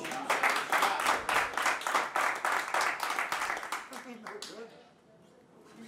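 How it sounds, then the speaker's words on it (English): Clapping from the crowd at a 10-ball pool match between Shane Van Boening and Earl Strickland, with a dense burst of clapping that thins out and fades after about four seconds, and voices underneath. "That's a premature applause"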